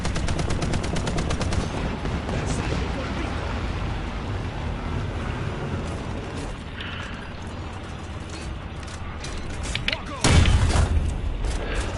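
Tank shells and gunfire in a War Thunder battle, heard as a steady rattle of rapid shots layered over a rumbling engine, with a heavy, loud shell blast near the end.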